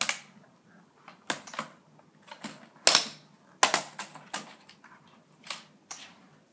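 Sharp plastic snaps and clicks from prying the keyboard off an HP Pavilion DV6 laptop, several separate cracks spread irregularly over a few seconds, two louder pops in the middle, close and with no talk.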